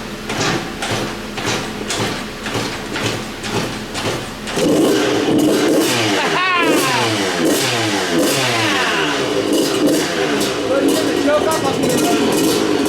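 A van engine with a rebuilt carburetor is kicked over and catches, running loud and close with a rough, rising revving note that settles into a steady idle, while people cheer and talk over it.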